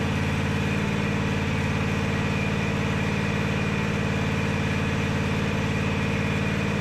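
A Husqvarna 24V54 riding mower engine runs at a steady idle, a continuous low mechanical hum with even vibration and no pauses, close by and without talk.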